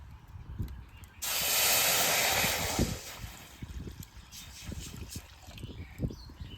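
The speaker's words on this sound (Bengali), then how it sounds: "এবার কাঁঠালের বীজ সিদ্ধ করার জন্য কড়াইতে জল দিয়ে দেবো" Water poured into a hot wok bursts into a loud, steady steam hiss lasting about a second and a half, ahead of boiling jackfruit seeds; quieter kitchen clatter and faint trickling follow.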